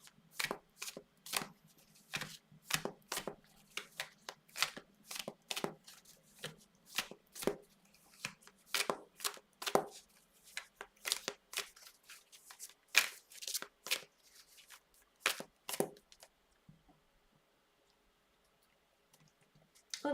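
Tarot cards being shuffled, a rapid series of crisp riffling slaps and clicks in irregular bursts, close and fairly quiet, fading to near silence in the last few seconds.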